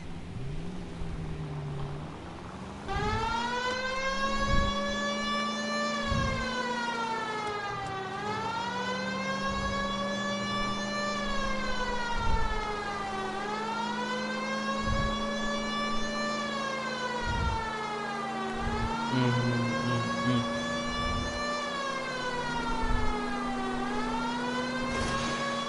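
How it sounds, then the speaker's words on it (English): Police car siren in L.A. Noire, a loud wailing tone that rises and falls repeatedly over a running engine, with a few dull thumps and no speech. "They might move if you use the siren, Phelps."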